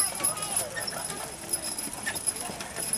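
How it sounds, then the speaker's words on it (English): Horse-drawn wagons roll past at a colonial-style event in Milford, Michigan, hooves clip-clopping steadily amid crowd chatter and nearby voices. "Wagons going past."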